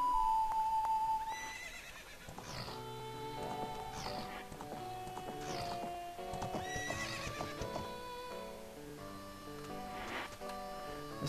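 Rhythmic clip-clopping hooves with repeated horse whinnies from the horse in Zelda: Ocarina of Time, set against bright game-style music tones.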